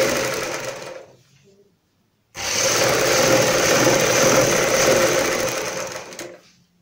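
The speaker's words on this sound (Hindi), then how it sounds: "सबसे पहले इन रेब की पट्टियों को हम इस तरीके से सिलाई लगाते हैं, एक पैर का मार्जिन रखते हुए यहाँ पे।" A sewing machine stitches rib fabric strips for a kurta back neck design: a short run of close, loud mechanical whirring, a pause of about a second, then a longer steady run that winds down.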